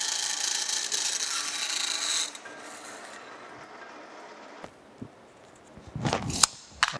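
A saw cuts across a clamped part for an electrical panel being fabricated for a DC drive retrofit, giving a steady loud rasping stroke for about two seconds, then quiet with a few sharp knocks and clatters near the end.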